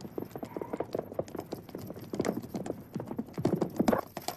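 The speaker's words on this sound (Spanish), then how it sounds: "¡Para ya, maldito caballo!" Horse hooves clip-clop in an irregular, restless rhythm from a close, fidgeting horse in a 1955 western film scene, with occasional snorts and stamping, no speech.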